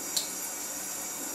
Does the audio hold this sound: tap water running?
yes